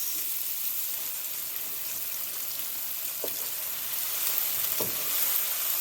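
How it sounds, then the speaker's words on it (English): Onions and garlic sauté in a pot as the base for a lamb stew, giving a steady, even sizzle throughout with a couple of brief clinks of a utensil against the pot. "Let it just saute for a few minutes."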